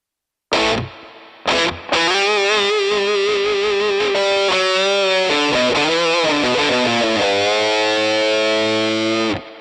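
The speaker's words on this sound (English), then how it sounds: "I'm going to select Spring Reverb, grab one of the defaults, and let's give it a listen" Electric guitar through a Headrush 2 amp modeller with spring reverb engaged, playing distorted sustained chords and riffs, loud and continuous with a washy, ringing tail and no talking.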